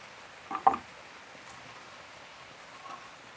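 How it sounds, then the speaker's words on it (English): Rain falling outdoors beside a backyard grill where ribs are cooking, a faint, steady hiss with a couple of louder drips or taps early on, then quiet patter to the end. "It's raining here."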